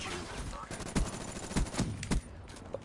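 Gunfire in a shooter video game, a rapid automatic burst with several sharper cracking shots in quick succession, loud and close, with a voice talking faintly underneath.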